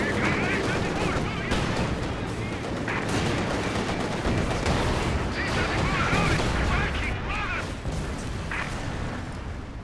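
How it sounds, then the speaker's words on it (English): Red Army artillery fire in Company of Heroes 2 gameplay: a dense, continuous barrage of booming shell blasts and crackling gunfire, loud and sustained throughout with no talk heard. "Red Army artillery ready to fire."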